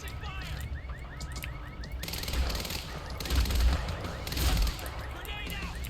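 Rapid automatic gunfire in the video game Quantum Break, bursts of shots over a busy combat soundscape that swells in the middle and later stretches, with a voice speaking over it.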